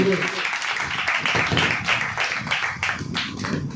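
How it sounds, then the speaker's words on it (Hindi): A church congregation claps loudly together, with a dense run of rapid hand claps that carries on steadily, while voices can be heard at the same time. "जोरदार ताली बजेगा, पिता का नाम का महिमा करेंगे।"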